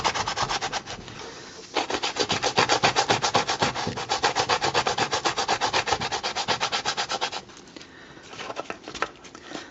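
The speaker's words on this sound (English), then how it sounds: "This is kind of why I like the sanding block, because you can kind of get in under these little details" A sanding block is worked over plastic Nerf Stryfe blaster parts in quick, steady back-and-forth strokes. The close rasping runs for several seconds after a short pause, then slows and fades into lighter scrubbing near the end.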